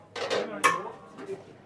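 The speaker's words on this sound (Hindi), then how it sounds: "ये हमारे बर्तन है, ये देखे ये बर्तन है भाई" Metal utensils and dishes clatter and clink as they are handled, with a sharp bright knock near the middle and softer scrapes around it, fairly close and moderately loud, while someone talks nearby.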